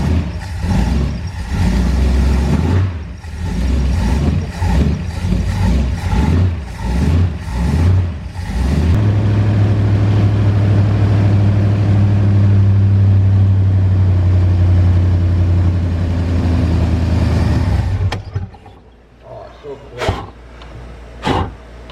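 A 1982 Chevy G20 van engine runs nearby, first in a series of rhythmic cranking pulses, then catching into a steady loud idle for several seconds before shutting off, with people talking over it at times.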